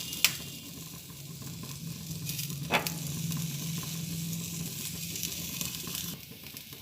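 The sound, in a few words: eggplant slices frying in a little oil on a tawa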